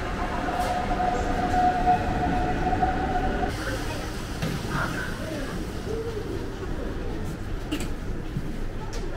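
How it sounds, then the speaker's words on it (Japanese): An S-Bahn commuter train in Hamburg, Germany rumbles steadily along the rails, with a faint squeal early on and people talking quietly over the noise. "空港まではまた S バーン列車で向かいます。"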